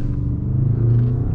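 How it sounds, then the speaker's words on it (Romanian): BMW 520d xDrive diesel sedan, M Sport Pro, accelerating hard in sport mode: a steady, loud low engine drone that strengthens slightly as it pulls, with no voices. "Cam așa trage mașina pe sport."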